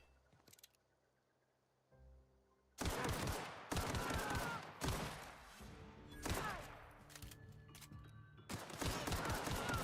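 Rapid bursts of gunfire from weapons in the video game The Outer Worlds, loud and close, with repeated volleys following a quieter opening and no talking over them.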